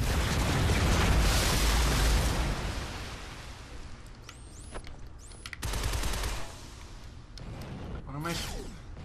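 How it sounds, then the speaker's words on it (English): Rapid gunfire and explosions in the video game Shadow Complex rumble loudly at first, then ease into softer bursts and electronic sound effects, with game audio continuing throughout. "Okay, I'm shooting it."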